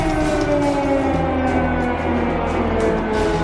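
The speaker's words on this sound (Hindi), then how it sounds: "क्रेमलिन, मॉस्को के चप्पे चप्पे में इमरजेंसी सायरन।" Emergency siren wailing across Moscow, a loud sustained tone rising and falling steadily and continuously throughout.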